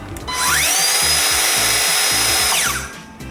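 A power saw for cutting timber starts up, spins up to a loud, steady high-pitched whine, runs for about two seconds, then winds down as it is released, close and without talk.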